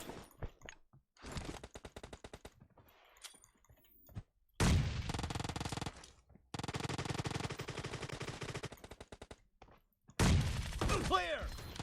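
In a video game, rapid bursts of gunfire with a shotgun among the weapons crackle in loud clusters separated by brief lulls, with a voice talking in between.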